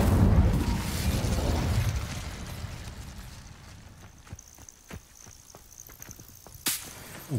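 Incendio fire spell cast in Hogwarts Legacy, a rushing whoosh and burst of flame that fades into crackling pops and sharp snaps, with a final bright crack near the end.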